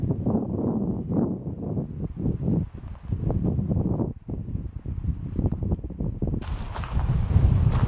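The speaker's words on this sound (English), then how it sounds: "I don't know if you guys are going to be able to hear me over this wind" Strong wind gusts across a barren burned-out stretch of open country, roaring steadily into the microphone with buffeting bursts and a harsher rise near the end, no voices.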